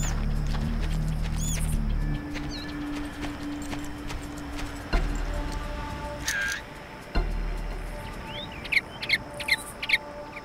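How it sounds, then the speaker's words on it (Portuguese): Game birds in Far Cry chirp in short, high, scattered calls over steady ambient jungle noise, with hoofbeat-like thuds and clicks and several brief chirps bunched near the end. "Tá, já sei que tem um passarinho lá."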